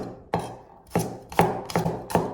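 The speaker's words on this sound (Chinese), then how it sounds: "首先我们把大蒜籽也给它切成片。" Kitchen knife slices garlic cloves on a cutting board, about six crisp, sharp chops in an uneven rhythm, close and clear with no talking.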